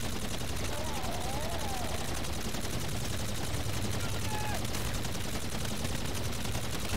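Sustained automatic gunfire roars nonstop during a Mephistopheles boss battle in a video game, dense and loud, with faint game tones layered underneath.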